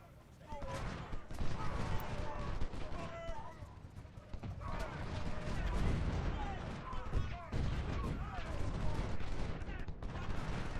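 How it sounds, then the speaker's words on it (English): Cannon and artillery fire in the Civil War video game Ultimate General: Civil War, dense rolling booms and crackling volleys over a continuous battle din, with someone talking over it. "we'll fire at his artillery with my artillery"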